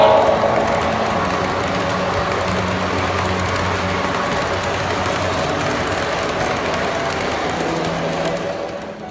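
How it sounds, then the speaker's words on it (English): A Pennsylvania Railroad GG1 electric locomotive hauls a World War II Army train through a home train room, giving a continuous rolling rumble with a faint rhythmic clatter that stays loud and even, then tapers near the end. "This is a Pennsylvania Railroad GG1 electric pulling a World War II Army train"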